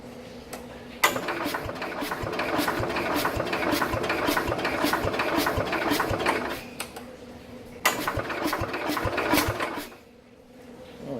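A Wisconsin S8D engine on a 1969 Bolens 850 tractor with starting problems is cranked with a little throttle and choke. A steady, loud chugging starter churn runs for several seconds, pauses, then cranks again briefly without firing.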